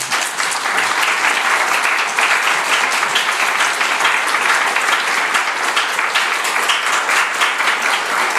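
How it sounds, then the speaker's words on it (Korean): A church congregation at a Friday prayer meeting breaks into loud, sustained applause to welcome a preacher to the front, dense and steady for several seconds with no voices over it. "우리 나오실 때 큰 박수로 맞아주시면 감사하겠습니다."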